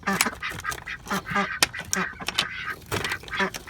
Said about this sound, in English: Now my very patient good ducks have been waiting to come out.